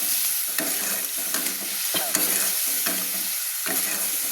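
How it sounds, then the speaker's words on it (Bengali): Spice masala with turmeric and salt stirred in a hot pan for ol chingri dalna, a loud dense sizzle with repeated scraping strokes of the spoon, close up. "আবার ভালো করে আমি নেড়ে নিচ্ছি"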